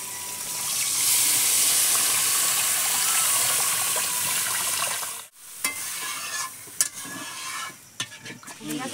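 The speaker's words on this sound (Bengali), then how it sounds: "আমি জল ঢেলে দেবো।" Water poured into sizzling spice paste for a fish curry in a village kitchen, a loud continuous hissing splash that cuts off abruptly, followed by quieter scattered bubbling and clinks.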